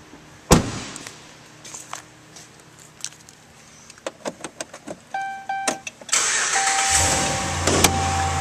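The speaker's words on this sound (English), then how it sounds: "Now we'll start up this vehicle." A 2011 Dodge Ram 1500 Big Horn crew cab 4WD pickup truck: cabin clicks and a door thud, a few chimes, then the engine cranks and fires loudly and settles into a steady idle.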